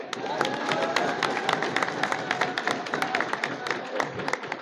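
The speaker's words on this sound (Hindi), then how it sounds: "इनके लिए भी जोरदार तालियां।" A crowd at a foundation's ceremony honouring a man weighed against laddoos applauds with many sharp, scattered hand claps over a continuous murmur of voices and crowd noise.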